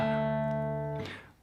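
A single fingerpicked acoustic guitar note or chord from a Celtic tune rings out sustained and close for about a second, then decays while a faint touch of string noise follows.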